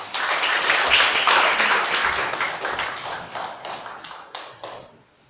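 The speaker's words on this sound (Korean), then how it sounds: "박수로 환영하겠습니다" Audience clapping fills a Korean church revival gathering at a women's mission hall as a forum chairman is welcomed to the stage, a dense burst of many hands that starts strong, holds steady, then gradually thins and fades over several seconds.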